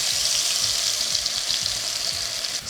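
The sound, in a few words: frying ground masala paste with whole spices for veg biryani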